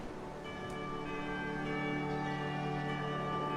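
Church bells ring together in a sustained, layered clamor of overlapping tones for a summer festival in a bright-towered city, loud and continuous without any voices.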